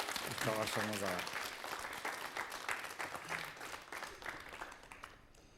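An audience gives sustained applause welcoming the poet Askar Orazakyn, dense clapping that fades gradually toward the end, with a voice speaking briefly over it at the start.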